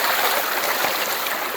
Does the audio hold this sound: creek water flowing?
yes